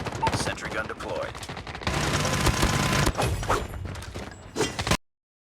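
A sentry gun fires in the mobile shooter game COD Mobile, with dense rattling automatic fire and mechanical clatter mixed with other gunshots and game effects, loud and busy before cutting off abruptly.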